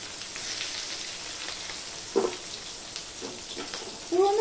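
A large amount of onion sizzles in hot oil with spices for a thin tilapia curry with okra and potato, a steady frying hiss with a few brief louder spits and stirring noises.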